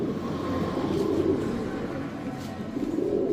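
Chocolate racer pigeons cooing, low soft throaty coos repeating in a steady murmur over a constant background hum, fairly close.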